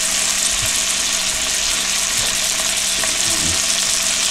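Venison sizzles loudly and steadily in a hot pan, a constant crackling hiss throughout with a few soft clinks.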